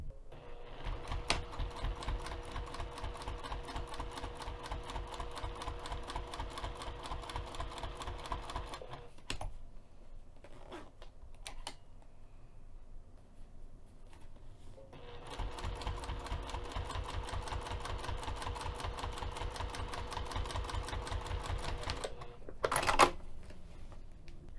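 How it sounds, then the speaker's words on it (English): A sewing machine top stitches fabric with a 3 mm stitch length in two long, fast runs of rhythmic needle clatter, split by a quieter pause with a few clicks and handling noises. "we're going to top stitch from the tab to the tab using an 1/8 of an inch seam"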